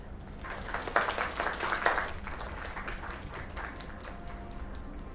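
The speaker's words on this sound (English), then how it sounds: "Another round of applause." Audience applause in a small performance venue, a moderate burst of clapping peaking in the first two seconds and then thinning into scattered claps and crowd murmur.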